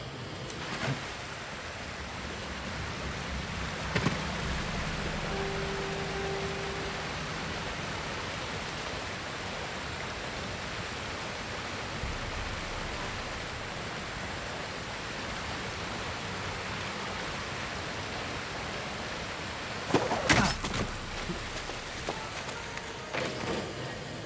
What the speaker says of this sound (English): Got to make sure I don't go over the edge of the waterfall.